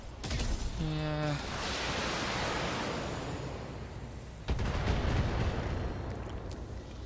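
Mech weapons firing in the BattleTech video game: a dense, roaring barrage of blasts and rumbling impacts that fills the whole stretch, with a second heavy burst of fire about halfway through.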